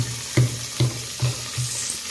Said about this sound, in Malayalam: ഇനി നമ്മൾ വെളുത്തുള്ളിയാണ് ചായക്കുന്നത്